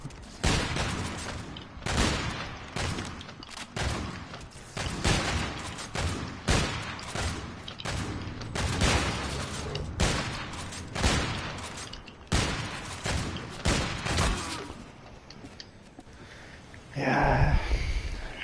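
Rapid video game gunfire crackles in repeated bursts of shots, loud and close, with short gaps between volleys and a heavier boom near the end.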